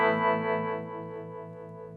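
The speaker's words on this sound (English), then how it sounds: "We have a Flint Strymon, which is a tremolo and reverb, both in one stomp box." Electric guitar played through a Strymon Flint tremolo and reverb stomp box, a rich sustained chord ringing out and slowly decaying with a lush reverb tail, alone without talk.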